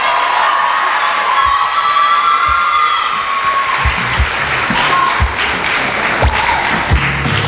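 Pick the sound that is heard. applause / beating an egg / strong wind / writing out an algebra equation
applause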